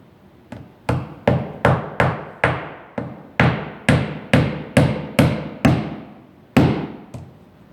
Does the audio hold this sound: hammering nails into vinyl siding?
yes